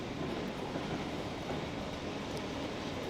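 A train runs along the main line in Transport Fever 2, giving a steady, dense rumble with a faint rolling clatter that holds at an even level throughout, with no talk.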